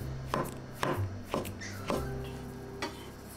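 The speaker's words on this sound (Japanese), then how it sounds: "椎茸は薄切りにします。" Shiitake mushrooms are sliced thinly with a knife on a cutting board, about six crisp, evenly spaced chops close up with quiet pauses between them.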